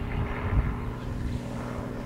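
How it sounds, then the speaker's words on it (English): Helicopter flying nearby outdoors near a soccer game, a steady low rotor and engine drone that stays fairly loud and constant throughout. "Is that a helicopter?"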